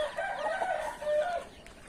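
Chickens and young chicks that got loose cluck and call outdoors on a farm, a cluster of overlapping hen vocalizations at moderate distance, fairly soft and alone.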